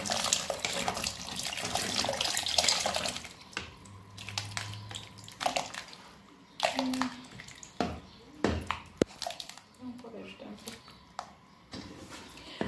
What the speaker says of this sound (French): je vais rajouter quand même une bonne quantité d'eau